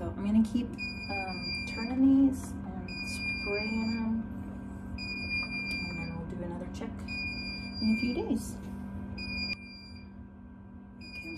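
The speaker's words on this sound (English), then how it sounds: "I'm sorry for that beeping. That's my alarm on my incubator." A duck egg incubator alarm beeps in repeated short, high electronic pips throughout while someone talks over it.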